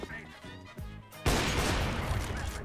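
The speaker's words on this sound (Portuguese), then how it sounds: "Alguém acertou um tiro" In a Counter-Strike match, a sudden loud burst of gunfire cuts in after quieter game sounds and keeps roaring for more than a second before trailing off.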